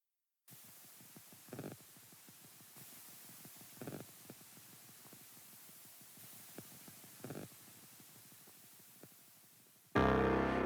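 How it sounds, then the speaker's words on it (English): Low-level static hiss with sparse crackle pops from a sample in an electronic song mix, steady throughout with a few brief louder bursts, ending in a sudden loud burst of noise. "it's basically some noise and some crackle"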